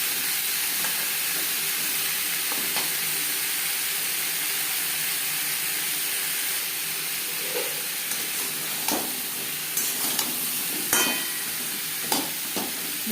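Potatoes and pointed gourd with salt and turmeric fry in a pan over a gas flame, giving a steady close hiss and sizzle with occasional soft clicks of stirring.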